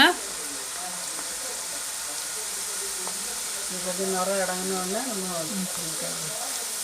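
Cassava pieces fry in hot oil with a steady, bright sizzling hiss that keeps going evenly while a person talks over it.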